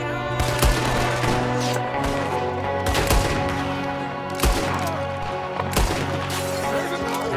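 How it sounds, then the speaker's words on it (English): Gunfire in Red Dead Redemption 2: loud, dense volleys of shots and sharp cracks from several guns, with heavy reports at regular intervals over a busy battle din and a brief shouted voice. "There's another one shooting from the window."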